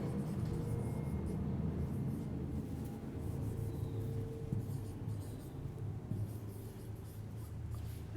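An eraser rubs a classroom board in faint, continuous scrubbing strokes against a low room hum, with no speech.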